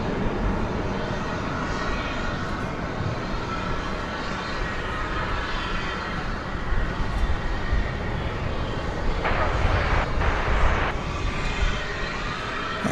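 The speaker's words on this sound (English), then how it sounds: "It's American Airlines flight 2659 arriving from Santa Ana, California, a 737-800." An American Airlines Boeing 737-800 arriving at DFW Airport at night, its engine roar a loud, continuous broadband rumble with a brief rise in intensity near the end.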